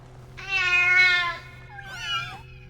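A cat gives two distinct meows, the first long and drawn out, the second shorter with a rising-falling bend, both close and clear over a faint low hum.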